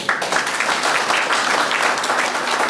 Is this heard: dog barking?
no